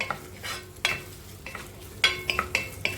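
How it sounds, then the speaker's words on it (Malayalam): Chopped onion softening in a hot pan for a bread pizza, a low steady sizzle with repeated scraping and clinking from a spoon stirring against the metal, close and fairly quiet. "സവാള അരിഞ്ഞതിട്ടിട്ട് ഒന്ന് വാട്ടിയെടുക്കുക"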